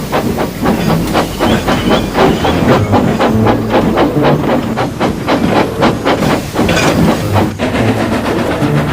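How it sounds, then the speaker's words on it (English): A steam locomotive hauling a heavy goods train puffs out of the engine sheds, a loud, steady run of rhythmic chuffs layered with hissing steam and rail clatter throughout. "And Gregory puffing out from the sheds"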